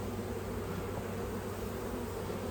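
Dense, continuous hum of honey bees buzzing at close range, steady and unbroken throughout.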